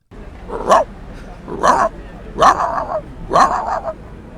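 A dog called Foufou barks four times in a steady rhythm, close and loud, each bark followed by a short whiny tail.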